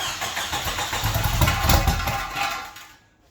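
A Jeep Wrangler YJ engine, run for the first time in years after a new fuel pump and filter, rumbles into life and runs roughly before cutting out abruptly near the end.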